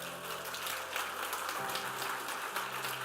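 A church congregation applauds the Lord in a continuous, fairly faint wash of clapping, steady throughout with a low tonal hum from instruments or a sound system underneath.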